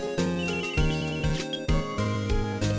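A cute cell phone ringtone from the video game Phoenix Wright: Ace Attorney plays a bright, looping electronic melody of repeated tones, steady and clear with no talk over it.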